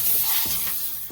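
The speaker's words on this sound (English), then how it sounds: "I'm just spraying it with my Terminator. And then what I'm doing is giving it a steam to start releasing." Terminator cleaner sprayed onto a towel, then steamed while cleaning a dirty car headliner: a close, steady broadband hiss with a few short bursts across the moment.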